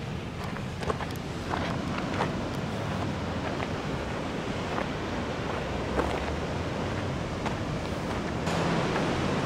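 Ocean surf and wind below a cliff at a sandy break in Baja California, a steady broad roar with gusty wind buffeting the microphone, continuous and fairly loud with no voices.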